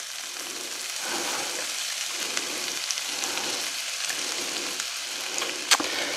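Bowtie pasta with ham and peas sizzles in a hot pan with olive oil while being stirred. The frying hiss is steady, with soft rhythmic scraping strokes and a brief clink near the end.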